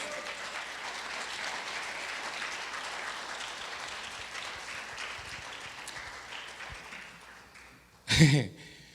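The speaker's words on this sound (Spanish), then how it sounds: "Vamos a darle un aplauso fuerte, hermanos." Sustained applause from a church congregation fills the space with a steady, dense clatter of many hands, fading gradually before a brief loud burst near the end.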